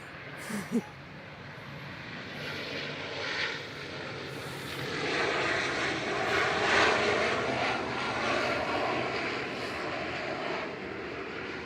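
An Aurigny airliner on flight 678 from Guernsey arriving at Manchester Airport, a steady engine roar building and holding over several seconds at moderate distance, with a brief knock near the start.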